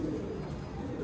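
Soft, low cooing from pigeons kept for flying, a brief murmuring coo heard faintly and steadily with no talk over it.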